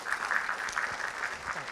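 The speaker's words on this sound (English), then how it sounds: "So if you would, a round of applause for Dr. Wayne McCain." An audience at an evening community talk gives a round of applause, soft and somewhat distant, a brief continuous patter of many hands clapping.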